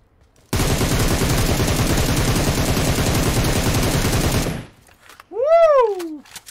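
A long, rapid burst of automatic gunfire in BGMI, loud and continuous for about four seconds with heavy thudding shots, followed by a short rising-and-falling whooshing tone.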